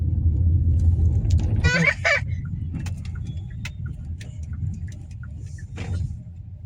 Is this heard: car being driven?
yes